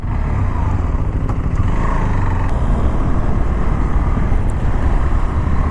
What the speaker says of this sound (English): Now let's take it to the road and see how good this motorcycle is.